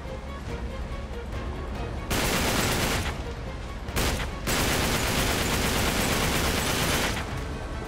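Heavy enemy gunfire in the video game Uncharted 3, a dense continuous barrage of automatic shots and bursts that swells loud and stays close for most of the stretch.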